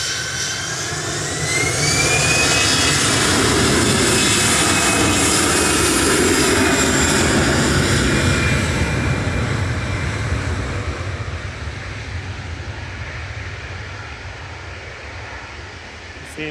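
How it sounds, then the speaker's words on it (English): A Vueling jet airliner bound for Barcelona roars down the runway on its takeoff roll at an airport, with a loud, steady engine rumble and a rising whine that slowly fades into the distance. "Welling on the roll now, turn and burn, back to Barcelona with flight"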